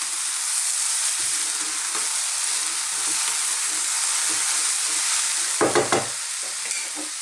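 Chinese cabbage and ginger stir-fry in a hot wok, the vegan greens wilting as they cook, with a loud, steady sizzle throughout and a brief burst of clattering stirring near the end.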